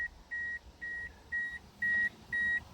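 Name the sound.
car warning beep with key in the ignition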